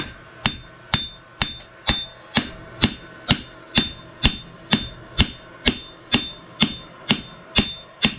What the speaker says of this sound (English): I'm trying to hit it more on this side with the hammer so it pushes the metal away.